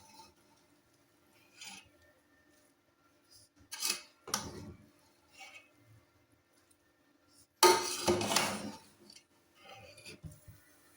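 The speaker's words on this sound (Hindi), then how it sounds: "और अब ये बर्तन धोने वाली हूँ, ये सारे बर्तन धोते हैं जल्दी जल्दी।" Dishes, pots and pans are hurriedly washed in a home kitchen, with short bursts of running water and splashing separated by quiet gaps, plus faint clinks of metal and glass.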